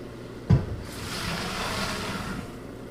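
Water is poured into a pot for a keto crab boil with sausage, starting with a brief thud and then a steady soft rushing splash that fades out after a couple of seconds.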